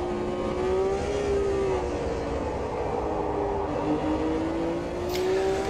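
A Formula One car's V12 engine drives steadily in Automobilista 2, a sustained high-pitched engine tone with rising and falling pitch, loud and continuous throughout.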